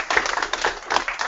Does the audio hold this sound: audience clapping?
yes